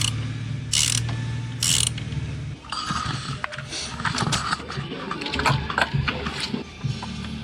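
A ratchet turning a size 5 Allen bit during a turbo install on a B58 engine gives quick clicking pawl sounds in short bursts over a low hum, close and fairly loud.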